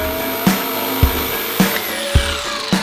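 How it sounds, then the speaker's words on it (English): A power jigsaw cuts a circle out of wood, a loud constant whine broken by five evenly spaced thumps as the blade works around the curve. "used my jigsaw to cut out the rest of the circle"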